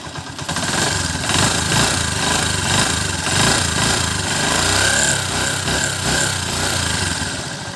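A Honda TMX 125 motorcycle engine idles loud and close after a valve clearance adjustment to 0.08 mm, giving a continuous rough, rattling drone with a fast ticking texture throughout. No one speaks.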